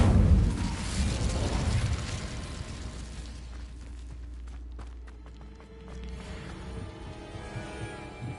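An Incendio fire spell cast in the video game Hogwarts Legacy: a loud, roaring whoosh of flame bursting out at the start, then fading into a low rumble with scattered crackles and small impacts.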